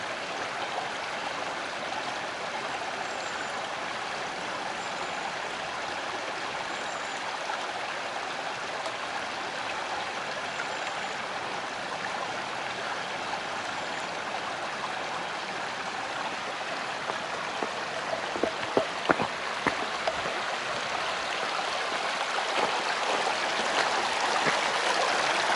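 Steady rush of a stream flowing over rocks in a valley beside a pavilion at Dongnakdang, continuous and fairly close, with a few sharper splashes late on.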